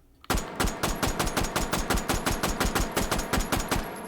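A Bergmann No 5 machine gun with its stock fitted, fired in the VR shooting game H3VR, fast and evenly spaced, roughly twenty loud sharp reports in about four seconds, close and without talk.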